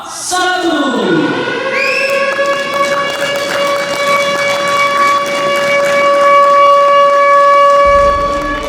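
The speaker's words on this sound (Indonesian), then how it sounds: "acara pembukaan dimulai dengan sesi tekan tombol sirine" A push-button siren sounds at the start of an opening ceremony for a government labour-ministry event: a loud, sustained wail rises at first, then holds a steady pitch for several seconds, with faint crowd noise beneath it.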